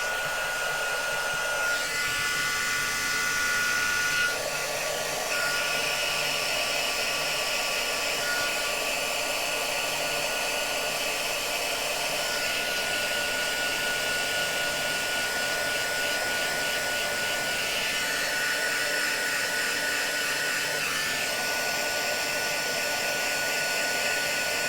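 A craft heat tool blows steadily on fluffy puff paint used for Christmas tags, giving a continuous, close, whining hair-dryer-like roar that barely changes for about twenty-five seconds, with no talking.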